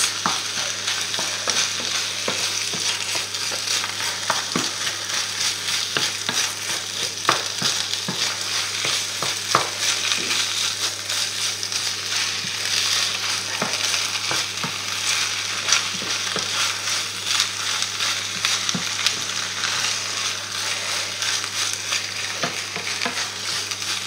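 Onions and spinach fry in oil in a pan, a continuous close sizzle broken by frequent scraping knocks of stirring, alone without talk.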